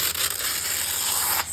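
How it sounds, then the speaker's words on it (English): Close, steady papery rubbing and crinkling as parchment paper is peeled back off hardened candy, continuous for a moment before easing off, with no talking. "Let's see if we can peel back our parchment paper now."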